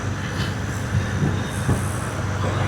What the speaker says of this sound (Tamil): சரக்கு ரயில் போய்கிட்டு இருக்கு